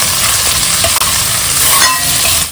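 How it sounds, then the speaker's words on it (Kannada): Cumin seeds, finely chopped garlic and green chillies fry in butter, giving a steady close sizzle with faint stirring scrapes throughout, no voices. "ಅರ್ಧ ಸ್ಪೂನಷ್ಟು ಜೀರಿಗೆ, ಸಣ್ಣ ಕಟ್ ಮಾಡಿರೋ ಬೆಳ್ಳುಳ್ಳಿ, ಸಣ್ಣ ಕಟ್ ಮಾಡಿರೋ ಹಸಿಮೆಣಸಿನ್ಕಾಯಿ ಫ್ರೈ ಮಾಡ್ಕೊಳ್ಳೋಣ."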